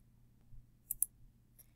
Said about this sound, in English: So I'm simply clicking on where it says website.